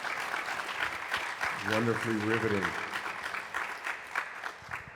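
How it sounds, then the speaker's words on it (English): Audience applause at a university lecture event continues as dense clapping throughout, with a voice speaking briefly over it in the middle. "Can we have another round of applause"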